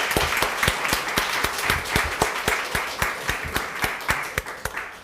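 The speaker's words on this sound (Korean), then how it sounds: "환영의 박수, 감사 박수." A church congregation at a Sunday service claps in a fast, strongly rhythmic unison beat, each sharp clap standing out over a softer background of scattered applause.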